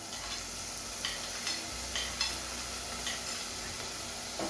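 Chopped tomatoes tipped into lightly cooked onions in a pan for desi-style noodles, giving a steady soft sizzle with occasional stirring scrapes and clicks, close by but fairly quiet.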